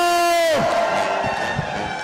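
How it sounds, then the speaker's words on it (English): Crowd cheering and whooping at a grant winner celebration party, a sustained loud roar that swells in after a held sung or shouted note fades, with scattered claps and shouts beneath. "Give them a round of applause."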